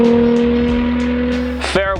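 A Nissan 350Z drift car's engine holds a loud, steady buzzing drone, then breaks into a sudden harsh burst with a quick rev change near the end. A voice talks faintly underneath.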